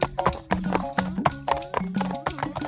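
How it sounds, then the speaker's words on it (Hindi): Fast hoofbeats of a running donkey clip-clop in a quick, regular rhythm close up, each strike sharp and clear. "दूसरी ओर गधा तेजी से दौड़ता हुआ चला जा रहा था।"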